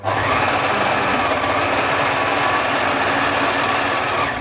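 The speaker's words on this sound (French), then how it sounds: "Vous venez tout juste de cutter avec la surjeteuse 2 cm." An overlocker serger runs steadily while cutting and stitching fabric for a kimono or yukata, producing a continuous, fairly loud mechanical whir with a fast rhythmic chatter and no voices.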